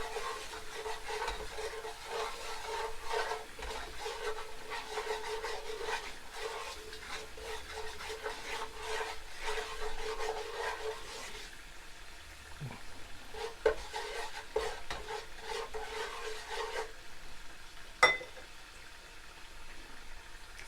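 Curry powder frying in a pan for curried king prawns, stirred with a continuous soft sizzle and scraping texture that thins out later, broken by a few sharp knocks near the end, close up with no voices.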